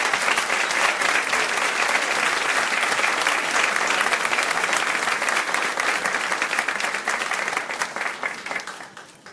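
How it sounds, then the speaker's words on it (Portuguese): A crowd applauds warmly, dense clapping sustained for several seconds before gradually thinning and fading out at the end. "é uma salva de palmas para ela"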